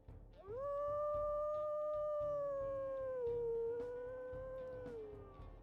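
Petrichor, a wolf in a video game, lets out a single sustained, clear howl that rises quickly, holds steady for several seconds and slowly falls off, over a soft rhythmic low background.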